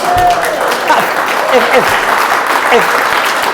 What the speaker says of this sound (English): If that's not worth a round of applause, what is?